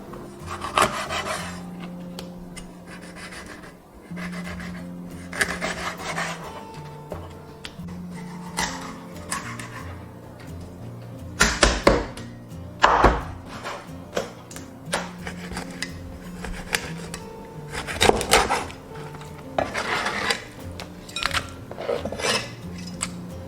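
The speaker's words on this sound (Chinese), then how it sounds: "鱼头也顺势的给它切对半， 接着斜刀切2轮刀" Crucian carp cut with a knife: the head halved and slanting cuts made along the fish, heard as repeated scraping strokes and sharp chops on a board, irregular and close.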